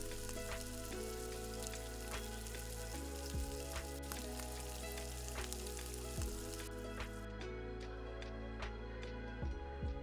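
Green chili, asafoetida and chopped curry leaves crackle and sizzle in hot oil as a tempering for ven pongal, a steady popping hiss under continuous background music.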